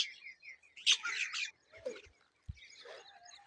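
Harsh crow caws ring out in a few scattered bursts over a quiet outdoor background in a village field, with short gaps between calls and no one talking.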